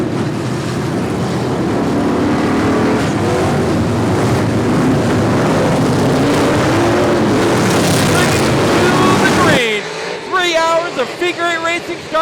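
Figure-eight race cars tear around a track in a continuous loud engine roar that swells toward the end, then gives way to shriller, wavering tones and a rougher mix of noise.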